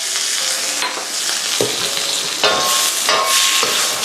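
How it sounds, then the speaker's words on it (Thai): Loud, steady sizzling of shark fin stir-frying in a hot wok with scraping stirs of a spatula, close up and continuous. "ต่อไปผมจะใส่ตัวหูฉลามลงไป"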